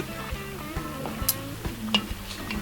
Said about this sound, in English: So stir it up very good.